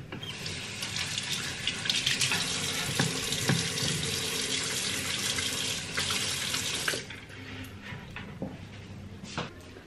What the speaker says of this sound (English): Okay, wash hands as soon as we get in.